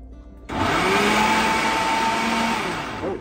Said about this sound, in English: we have a real no-frills blender, although we like it